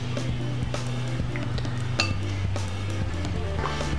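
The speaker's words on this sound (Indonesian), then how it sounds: "Kita aduk aja." A spoon stirs soaked oatmeal mixed with Hilo chocolate taro in a bowl, giving light clinks and scrapes against the dish over a steady low hum, close and fairly quiet.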